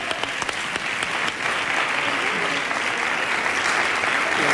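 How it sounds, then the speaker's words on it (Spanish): Loud, sustained audience applause after a live performance, a thick wash of clapping with a few sharper claps standing out early, steady and close for the whole stretch. "este aplauso es vuestro"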